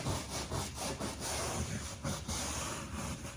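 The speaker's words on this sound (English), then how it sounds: "just gently scrub in areas where you feel a little bit more power is needed" A brush scrubbing a suitcase up close, rhythmic bristly rasping strokes that repeat in quick back-and-forth passes with faint breathy background noise.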